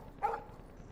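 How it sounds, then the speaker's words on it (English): A dog in the video game Life Is Strange gives a single short, faint bark against a quiet background. "No barking."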